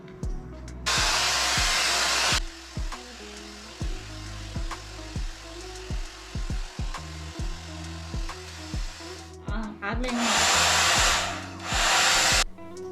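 An Agaro Volumizer hair dryer blowing on freshly washed wet hair, a loud steady airflow roar that cuts in and out in bursts, with rustling and clicking handling noises in between.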